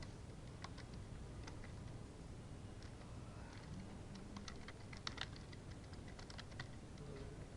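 Rapid keystrokes on a computer keyboard tap out in irregular bursts, faint against a steady background hiss, with no voices.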